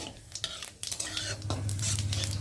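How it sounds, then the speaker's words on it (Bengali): Whole cumin seeds frying in hot oil in a pan, a soft steady sizzle with scraping and clinking of a spatula stirring, close by and moderately loud, with a low hum underneath. "আর এর মধ্যে দেবো গোটা জিরে ফোড়ন, জিরেটা একটু ভালো করে ভেজে নেব।"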